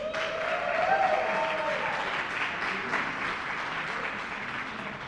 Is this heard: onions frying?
no